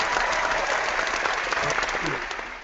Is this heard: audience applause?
yes